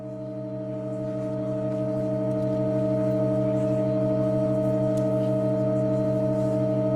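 Sustained pipe organ tones holding a steady, unchanging chord, rich in layered harmonics and swelling slightly in loudness before staying level throughout, with no voices.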